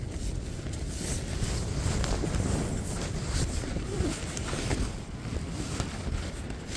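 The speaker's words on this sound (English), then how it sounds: "Jesus Christ, the wind!" Strong wind gusts batter a tent at a trail campsite, a loud continuous roar and buffeting rush with constant flapping that does not let up.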